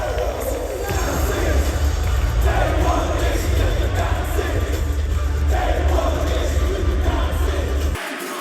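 Wrestling fans in an arena sing along to the Usos' entrance theme, a loud, dense crowd chant and roar that holds steady for several seconds before cutting off.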